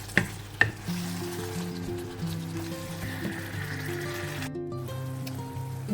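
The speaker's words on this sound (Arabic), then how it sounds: "راح اقبغ اللحم مالتي على مود اللحم يستوي والتوابل يدخل باللحم مالتي" Meat with spices frying in a pan, a steady close sizzle with stirring clatter and a couple of sharp utensil knocks at the start.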